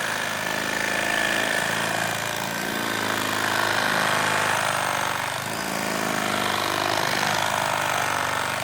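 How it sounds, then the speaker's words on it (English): An electric knife saws through a heavy-duty rubber stall mat with a rocking motion, its motor buzzing steadily and close up for the whole stretch, the whine wavering slightly as the blade works back and forth. "I'm doing it with the electric knife."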